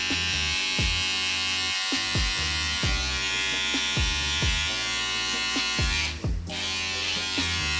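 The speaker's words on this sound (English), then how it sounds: "I'm just gonna go back in now with my detailers, and I'm gonna introduce some nice sharp lines on the edges" Electric hair detailer clippers buzz steadily and up close while trimming sharp edge lines on a skin fade haircut, with a brief dip near the end.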